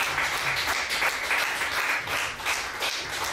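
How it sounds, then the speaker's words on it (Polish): A concert audience at an operetta gala claps in a steady, fairly close burst of applause that carries on throughout without talking. "Niech wybrzmią brawa dla ciebie."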